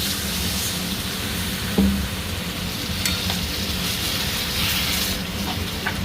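A potato and yardlong bean curry sizzles loudly in the pan after a little water is added, a continuous close crackle with occasional stirring scrapes.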